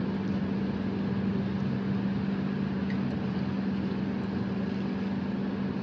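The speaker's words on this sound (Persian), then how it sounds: "الان میبینیم که فشار داره میاد پایین، صدا موتور هم عوض میشه تقریبا." Split air conditioner compressor humming in a steady, unbroken drone during pump down, fairly quiet and continuous with no speech over it.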